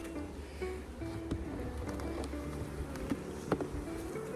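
Honey bees buzzing around an open beehive during a hive inspection, a close, continuous droning hum with wavering tones and occasional sharper passes of individual bees.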